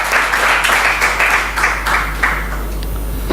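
Climate summit audience applauding event sponsors with a full, continuous round of clapping, loud and close, rippling in uneven waves over a low steady hum.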